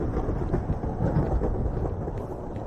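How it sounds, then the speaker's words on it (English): Thunderstorm in a video game, probably Minecraft: a steady, dense rumble of rain and low thunder that fills the whole stretch at even loudness, with no voices over it. "Oh, it's a thunderstorm."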